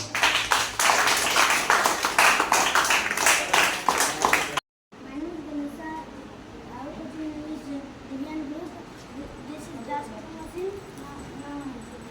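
Applause for students presenting a solar-powered bulb project, a few seconds of lively clapping from a small group, then a sudden stop and a voice talking afterward.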